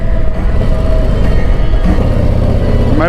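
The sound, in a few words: 2023 Harley-Davidson Street Glide CVO motorcycle riding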